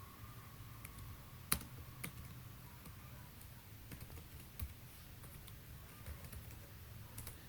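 Code being typed on a computer keyboard for a Linux semaphore program: faint, irregular key clicks with one sharper tap, set against a quiet room hum.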